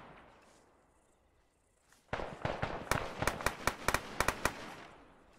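Arma 3 video game gunfire starts after about two seconds of quiet. A sudden burst of sharp, loud shots follows, then a rapid string of distinct cracks of mixed strength, heard alone without talk.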